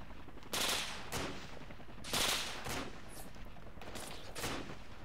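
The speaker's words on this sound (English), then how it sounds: "They're shooting from northwest." Distant automatic gunfire in the military shooter Project Reality rings out in several sharp bursts roughly every second or two, echoing over a steady background hum.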